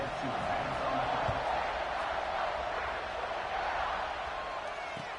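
Stadium crowd in the College Football 26 video game on PS5, a steady broad roar of many voices sustained throughout the kickoff, with no talk over it.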